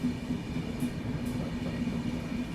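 Sachkhand Express passenger train rolling along the rails near Nilokheri, with a steady low rumble and drone heard from inside the coach.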